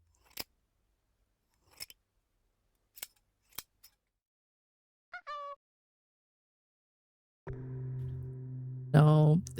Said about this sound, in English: Cutting something with scissors.